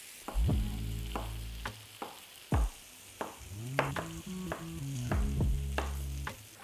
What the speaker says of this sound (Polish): W tym czasie, kiedy wszystko nam się podsmaża